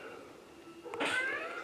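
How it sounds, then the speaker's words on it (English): A pet cat gives a single clear meow, close and fairly quiet, over a faint background hum. "One sec, kitty."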